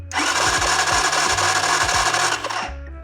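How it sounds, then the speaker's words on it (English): A stored gas-powered motorcycle engine cranks steadily on its electric starter with a rapid whirring churn, loud and close, stopping just before the end without catching. "we'll start hitting the starter button while grounding the spark plug to the engine"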